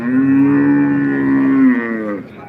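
A single long, loud cow moo at the Modnimb cattle market in India, steady and close, trailing off after about two seconds.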